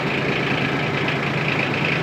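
A Yanmar F155 mini tractor runs steadily with its rear tiller attachment engaged, giving a continuous, even engine drone with a hissing mechanical wash over it, with no voices heard.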